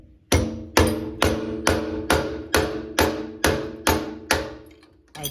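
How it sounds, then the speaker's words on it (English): A lead hammer strikes a steel drift nine times at a steady, roughly half-second rhythm to knock the chuck out of an old Sears Craftsman drill press, each blow a sharp, close, ringing metallic thump with no talking. "let's knock that out using a drift and a lead hammer"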